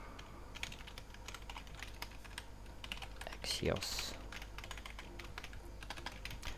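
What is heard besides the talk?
typing on computer keyboard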